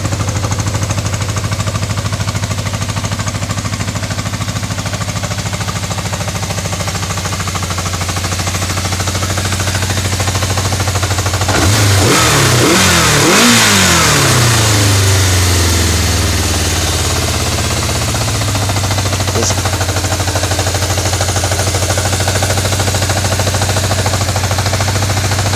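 A 1987 Yamaha Radian motorcycle engine idling steadily with a low drone, then revving up and falling back around the middle before settling again, loud and close with no voices.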